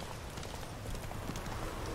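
Horse hooves clop steadily in The Witcher, a game set in the thirteenth century, as a muffled, even run of thuds under a wash of noisy background, with no talk.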